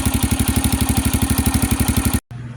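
A Yamaha TT-R125 dirt bike engine, freshly top-end rebuilt, idles with a fast, even putter, loud and close, then cuts briefly before resuming at a lower murmur.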